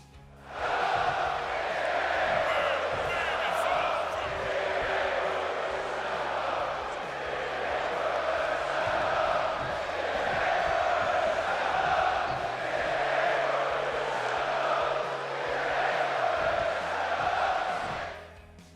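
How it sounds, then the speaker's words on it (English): A WWE 2K24 arena crowd chants at Roman Reigns in a rendition of the Money in the Bank crowd at London's O2, a loud, dense and steady roar that holds for about seventeen seconds. "you can hear the crowd chanting "Stand Up if you hate Roman,""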